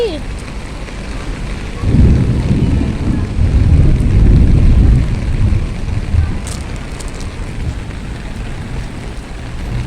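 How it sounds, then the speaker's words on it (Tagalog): Heavy rain pours down outdoors near a guardhouse, a loud broadband wash that swells around two seconds and stays strong, with excited voices talking over it. "So yan na, inabot-abot na ng ulan!"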